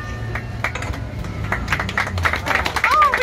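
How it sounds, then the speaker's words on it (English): Passengers on a canal tour boat in Amsterdam clap together in a short, steady burst of applause, close and lively, with a voice speaking over it. "Oh, we get applause"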